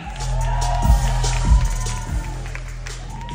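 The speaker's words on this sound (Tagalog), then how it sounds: "Parinig naman ang palakpakan na may kasamang hiyawan." An audience at a live influencer pre-launch event claps and cheers over a loud amplified music bed with heavy bass thumps, the crowd noise steady but partly buried under the music.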